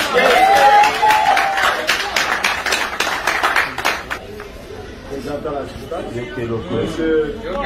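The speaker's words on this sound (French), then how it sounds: "Est-ce qu'on peut applaudir s'il vous plaît?" An audience claps for a performer, a burst of dense, loud hand clapping near at first that thins and fades, with a voice talking over it and later carrying on as the applause dies down.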